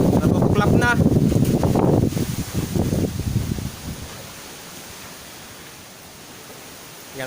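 Strong typhoon wind roars and rushes past the microphone, loud at first and then easing into a steadier, softer blowing, with a person talking over the opening seconds.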